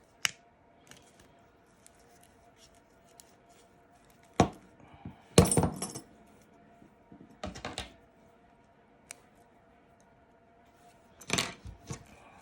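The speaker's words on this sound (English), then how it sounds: "so now we are going to punch up some little holes." Sharp clicks and crunches of a hand punch biting small holes in paper for a steampunk book, several spaced snaps with quieter handling between them, close and with no talk.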